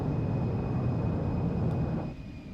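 An Embraer E175 jet taxiing to the gate in the X-Plane 12 flight simulator, a steady low engine rumble and whine heard alone, easing off slightly near the end.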